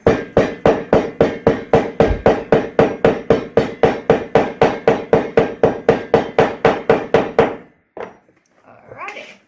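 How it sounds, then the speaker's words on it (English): Rapid, loud, evenly spaced hammer blows pack clay around an object for sand casting, about three strikes per second for seven seconds, then stopping, followed by faint handling noises. "Alrighty, hammer time."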